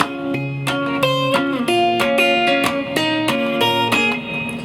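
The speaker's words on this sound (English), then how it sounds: "When he's by himself playing it on an acoustic guitar, he sometimes emulate the guitar melody from Guitar2 at the same time." Acoustic guitar plays a song live, with the second guitar's melody woven into the part, picked slowly with steady strummed chords and ringing high notes, played solo and close.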